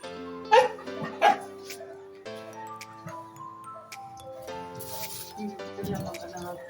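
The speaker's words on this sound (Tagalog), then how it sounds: "kasi yung aso namin nandito sa labas. Tahon ng tahon." A dog barks outside near a backyard grilling lunch in Tayug, Pangasinan, with two sharp loud barks early on followed by quieter yips and whines, under background chatter.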